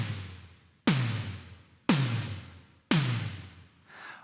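Simmons-style electronic snare drum from a Hypersynth Xenophone synthesizer: three separate hits about a second apart, each a sharp noisy crack with a falling pitched tone that decays slowly, then a fainter fourth tail, alone and dry.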